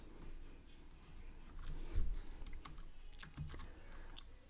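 Quiet, close typing on a computer keyboard, with soft irregular key taps in short bursts and a couple of heavier thumps.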